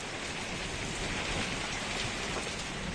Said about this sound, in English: It's just started chucking it down, so I'm going to shut my front door.